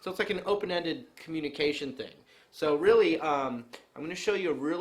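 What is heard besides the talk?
None of the usual background noises is heard.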